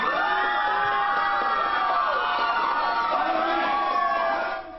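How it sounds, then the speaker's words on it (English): High school students at George Washington High School pack an auditorium and cheer as Jason Kelce walks in, a loud sustained wall of shouts and screams that fades slightly at the end. "So the crowd of students cheering Jason Kelce as he walked into their auditorium there."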